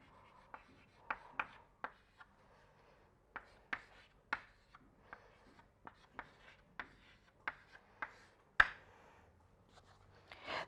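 Chalk or marker writing equations on a board during a lecture, a sparse series of short taps and scratches spread irregularly over ten seconds, fairly quiet and close.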